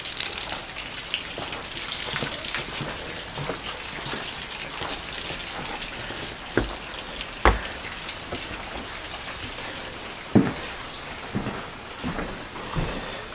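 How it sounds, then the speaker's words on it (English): Steady late-night rain falls on surfaces in Hawaii, a dense continuous hiss with occasional louder drips and splashes standing out near the end. "Late night rain."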